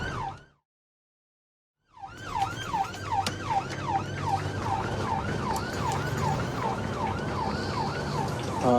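Ambulance siren wailing on the road to hospital, a rapid repeating up-and-down yelp starting after a brief silence and continuing loud and close over engine and road rumble.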